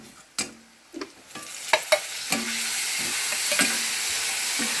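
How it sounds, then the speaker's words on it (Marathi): Spice masala frying in a pan, a few sharp stirring knocks and scrapes at first, then a steady sizzle building and holding, close and moderately loud. "आता हे बघा त्याला मध्ये मसाला तळून घेते"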